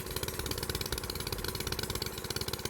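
A water pump engine runs steadily in a flooded paddy field damaged by unseasonal rain, its throbbing mid-pitched chug pulsing in a fast even rhythm, close and loud, with no talk.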